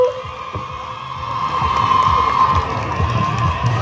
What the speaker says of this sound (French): Applaudissons-nous.